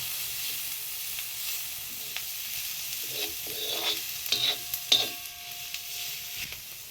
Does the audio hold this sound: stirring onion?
yes